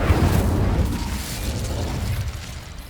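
An Incendio fire spell is cast in the Hogwarts Legacy video game. A loud, close fiery burst hits at once and then fades into a rumbling whoosh over about three seconds, with no talk.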